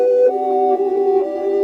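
A reversed synth lead, pitched up nine semitones, holds a bright, thin sustained tone with a slight wavering swell, loud and alone for under two seconds.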